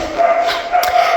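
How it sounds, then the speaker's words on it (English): A dog barks in an empty house while a woman tours the kitchen and talks, the barks coming as short, fairly loud bursts alongside her voice. "that dog"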